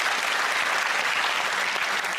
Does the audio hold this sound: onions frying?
no